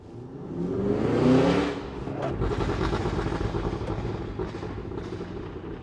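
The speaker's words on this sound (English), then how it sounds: "Let off after having pressed it down rapidly, and you'll get the most pops and burbles" A 2023 Cadillac Escalade V in automatic mode swells through a quick rev, then the exhaust crackles with a rapid run of pops and burbles as the throttle is released, fairly close and loud.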